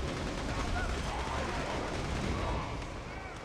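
Rocket pods firing in the video game Borderlands 2, a dense, continuous barrage of explosive blasts and rumbling gunfire filling the whole clip at high, steady loudness.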